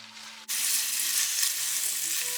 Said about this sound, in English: While the onions are doing their thing, I make sure to keep stirring occasionally.